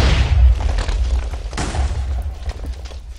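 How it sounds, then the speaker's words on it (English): TNT cannon explosion in the Minecraft video game: a loud booming blast at the start, then a second burst of explosions, with rumbling debris fading away. "It's a TNT cannon."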